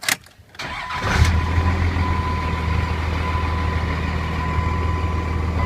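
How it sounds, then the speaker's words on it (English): A 2000 Dodge Ram diesel pickup with a manual gearbox cranks briefly, catches and settles into a steady, loud, close diesel idle with a low rumble. "Let me fire this thing up. Let you listen to it run under the hood for a second."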